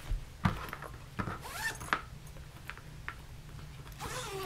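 Zipper on a travel clutch bag being pulled, several quiet close zips and rustles of fabric with small handling clicks in a calm indoor setting.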